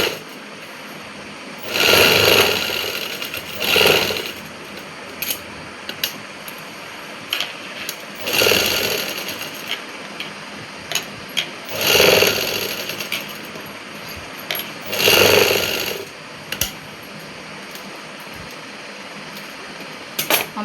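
A sewing machine stitching a palazzo trouser: loud close whirring runs of stitching in five separate bursts of one to two seconds each, with quiet pauses and small mechanical clicks between them.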